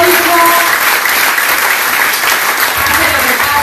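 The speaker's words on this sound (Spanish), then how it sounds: "un fuerte aplauso" Loud, dense audience applause fills the whole stretch at a political forum, a steady roar of many hands with a faint voice mixed in underneath.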